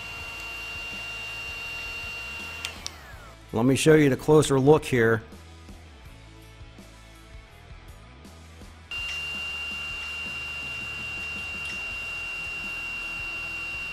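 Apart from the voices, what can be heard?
DeWalt cordless heat gun running on high and low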